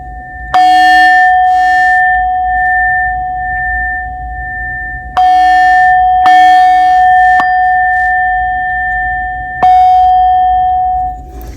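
A metal singing bowl struck four times, each strike a bright ringing tone with clear overtones that sustains and slowly fades between hits, loud and close with no talk.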